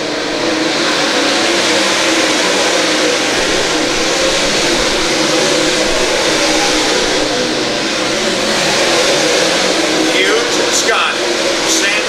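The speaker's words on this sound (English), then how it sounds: "these top 4 cars try to freight train away from the rest of this field" Race cars roar around the track during a 40-lap USMTS modified feature race at L A Raceway, a continuous loud engine drone with rising and falling revs as the pack passes, while an announcer talks over it.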